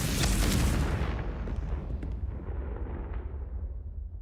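Confringo fire spell blast in a Harry Potter video game: a loud, booming explosion with a sharp burst at the start, followed by a long rumbling decay. No voices.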